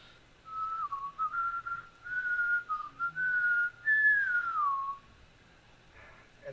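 A person whistles a tune alone, a melodic line of sustained and gliding notes with short breaks, ending in a long downward slide.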